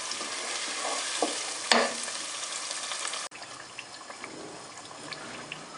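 A fish curry base fries and is stirred in a pan, giving a continuous bright sizzle with a few scraping stirs and a sharp clatter partway through. The frying then drops abruptly to a quieter, softer sizzle.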